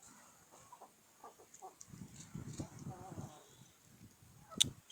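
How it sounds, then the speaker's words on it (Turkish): Chickens cluck in short, soft bursts nearby, with scattered fowl calls and a sharp squawk near the end. "Köy tavukları. Paçalı tavuk. Kaz."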